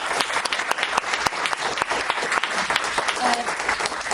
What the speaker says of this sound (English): I'd love for you to give him a round of applause.